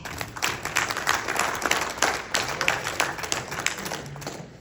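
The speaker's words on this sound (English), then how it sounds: "give a round of applause." Audience at a Ridgecrest comedy-style show breaks into a sustained round of applause, dense overlapping claps with scattered cheers, steady and fairly loud throughout.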